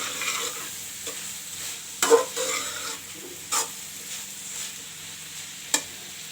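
Onions, large and plentiful, cooking in a pan as the masala base for a fish curry, with soft steady sizzling broken by a few sharp stirring knocks and scrapes, close and fairly quiet, no voices.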